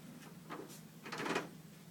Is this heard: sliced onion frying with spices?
no